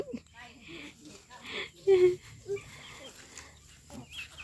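A chicken clucks a few times in short bursts, mixed with people talking nearby.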